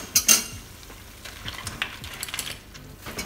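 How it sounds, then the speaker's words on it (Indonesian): Spicy crab sauce with sesame oil being stirred in a pan over a low flame: short scraping spoon strokes and clinks over a soft, steady sizzle, close up and fairly quiet. "lalu diaduk"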